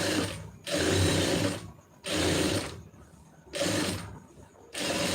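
A sewing machine stitches a blouse lining in four short runs of about a second each, set apart by brief quieter gaps, its whir close and fairly loud.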